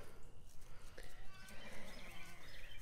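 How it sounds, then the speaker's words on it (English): Young lambs bleating with a herd of sheep on a farm, with a livestock guardian dog nearby; thin, wavering calls come from close and a little distance over steady outdoor background noise. "And their little lamb sounds are so cute."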